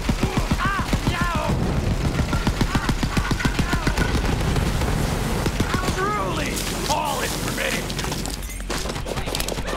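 Rapid automatic gunfire bursts in the shooter game Borderlands 3, loud and dense with clattering impacts and booms, a voice talking briefly over the barrage.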